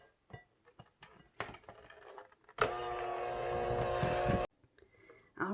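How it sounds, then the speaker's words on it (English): An electric hand mixer whirs steadily for about two seconds as it beats a cheese ball mixture, framed by scattered bowl clatter and handling noises. "I'm going to use a hand mixer to do this part."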